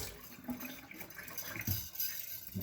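Tap water runs and splashes as a whisk is rinsed under a faucet, a faint, uneven spattering with small clinks and gurgles, no voices.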